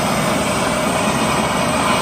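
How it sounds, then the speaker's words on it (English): A MAP gas torch flame heats solder on a heavy-duty wire cable, giving a steady, close, unbroken roar that holds level throughout with no talking. "So we're using MAP gas to heat this up"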